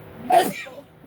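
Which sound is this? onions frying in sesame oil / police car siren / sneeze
sneeze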